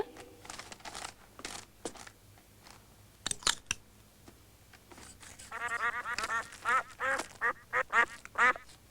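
Duck quacks from a zombie duck head in a 1988 horror comedy film, a run of nasal honking calls growing louder and more frequent toward the end after scattered clicks and thuds.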